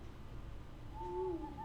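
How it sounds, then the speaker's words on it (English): Ironbeak Owl in the Hearthstone card game gives a clear hooting call, a wavering tonal hoot rising out of a low background hum in the second half. "Darn you, Ironbeak Owl."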